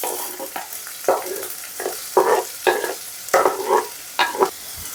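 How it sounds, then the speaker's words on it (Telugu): Onions dropped into hot mustard oil with cumin seeds, stirred with sharp scraping strokes over a steady sizzle; spatula bursts repeat every half second to second, close and fairly loud, with no talking. "అండ్ ఆనియన్స్ వేసేసుకుందాం."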